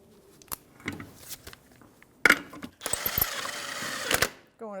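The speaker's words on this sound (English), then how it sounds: "That's a 19mm socket, and we're going to just snug it up." A 19mm socket snugs up the wheel lug nuts on a 1997-2006 Jeep Wrangler, giving short ratcheting and whirring bursts between clanks, with a longer buzzing run near the end.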